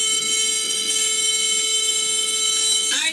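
A loud alarm rings furiously and without pause, a steady, shrill, buzzing tone that holds for about three seconds before briefly shifting at the end, with no voices.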